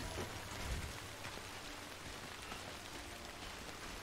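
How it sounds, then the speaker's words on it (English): Heavy rain in the video game Death Stranding, a steady dense hiss of downpour that stays even and constant throughout, with a soft low rumble underneath and no voices. "It's really raining,"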